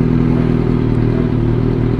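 Kawasaki Z motorcycle with a Scorpion exhaust, heard close by as a steady, loud, throbbing engine rumble with no change in revs across the brief moment.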